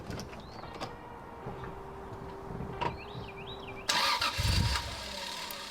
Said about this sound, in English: Car will start up and idle for 2-3 seconds, then it sounds like it's just completely losing fuel and dying.